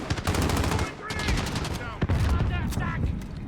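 Rapid bursts of gunfire in Call of Duty: Modern Warfare team deathmatch, loud sharp cracks that come in quick clusters over a dense battle mix of game sound, with a few separate louder shots standing out.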